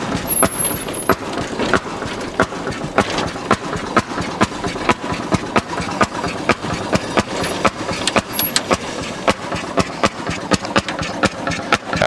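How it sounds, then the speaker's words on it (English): A Fairmont S-2 railroad motor car's small engine runs under load, a rapid regular chugging of firing pulses, fairly loud and close, with no talking. "And you can hear the engine going under load."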